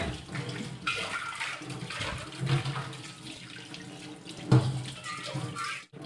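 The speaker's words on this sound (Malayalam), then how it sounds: "ഞാൻ വെള്ളം ഒഴിച്ച് ഒന്ന് കഴുകുവാണ്" Water runs steadily and splashes close by as a burnt pan cleaned with baking soda is rinsed, with a brief louder splash near the end.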